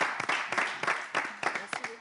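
A small audience at a gathering applauds in a short, uneven burst of claps, and voices talk and cheer over it.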